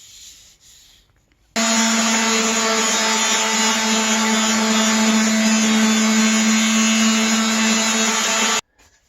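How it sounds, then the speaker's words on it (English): Coarse sandpaper worked hard and fast along the edge of a PVC sword blade, a loud, continuous abrasive rasp running steadily for about seven seconds before stopping abruptly. "you need to use a very coarse sandpaper for this part because you're getting through a lot of the material"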